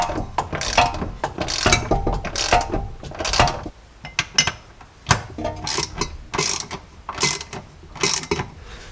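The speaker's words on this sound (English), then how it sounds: "I'm just going to take a ratchet and snug these up" A hand ratchet snugs the bolts on a rear shock of a Jeep Cherokee XJ, producing repeated quick clicking bursts in an uneven rhythm, close and fairly loud, with no talk.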